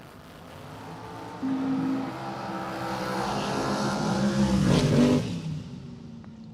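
A 2006 Miller chassis dragster runs down a drag strip, its engine rising to a loud rough roar that swells and then fades near the end.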